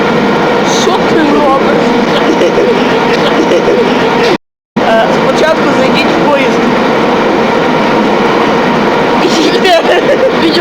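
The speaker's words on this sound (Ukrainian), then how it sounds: "Зараз ми знаходимося в поїзді." Steady rumble and rattle of a moving train carriage, continuous and loud, with a brief dropout partway through.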